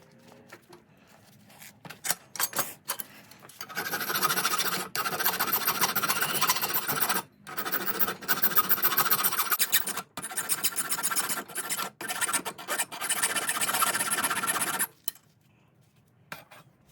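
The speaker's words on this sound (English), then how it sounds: "I'm just going to work that around with a metal file till I get to that line" Steady rasping of a metal file shaping a two-piece dovetail clip, worked back and forth in long strokes, with brief pauses between passes, loud and close.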